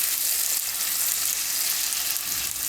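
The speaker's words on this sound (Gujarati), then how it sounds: "થોડીક વાર આને તેલમાં ચડવા દેવું. વચ્ચે વચ્ચે આપણે આ રીતે હલાવતા રહેવું 2 થી 3 મિનિટ." Capsicum frying in hot oil for Gujarati paneer toofani gives a steady, close, loud sizzle that runs unbroken throughout while being stirred, with no voices.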